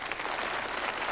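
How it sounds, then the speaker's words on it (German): A small audience gives brief, even applause, a dense wash of many hands clapping at a moderate level. "Vielleicht einen kleinen Applaus"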